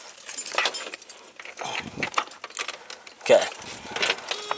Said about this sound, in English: Let me quickly grab my keys.